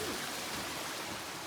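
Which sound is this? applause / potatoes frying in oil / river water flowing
river water flowing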